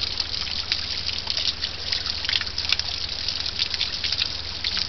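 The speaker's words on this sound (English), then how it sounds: "This is Roan Mountain and the water coming off the mountain." Water trickling and dripping off Roan Mountain, a steady close hiss of running water with small splashy drips scattered throughout and no voices.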